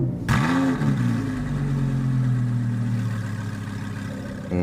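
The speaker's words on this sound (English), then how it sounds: "let's fire up that V10, go for a bit of a drive" An Audi R8 V10 engine cranks and fires up with a sharp bark, then settles into a deep, rumbling idle through its Capristo exhaust.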